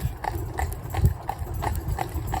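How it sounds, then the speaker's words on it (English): A family cob horse's hooves clip-clop on a road in a steady, even walking rhythm, close and clear, with faint background noise. "he's a lovely, lovely horse"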